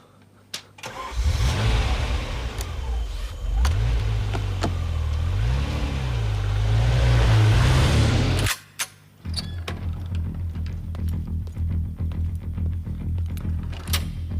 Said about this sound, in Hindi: एक गाड़ी हमारा पीछा कर रही है लैब से